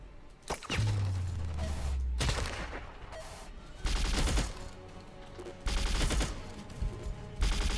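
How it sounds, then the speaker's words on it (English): Assault rifle fire in a sci-fi video game, with loud bursts of rapid shots breaking out in several separate volleys between quieter stretches. "the assault rifle, it's kind of putting damage in"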